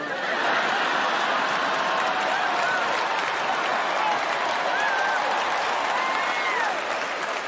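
Loud, sustained applause from a stand-up comedy audience fills the whole stretch, dense clapping with some crowd murmur and scattered chuckles, steady throughout.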